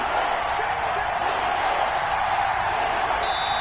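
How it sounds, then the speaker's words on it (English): Stadium crowd in a football video game roars steadily through a big third-down moment, a dense, continuous wash of cheering with no breaks. "The crowd getting into it as we come up on a big 3rd down."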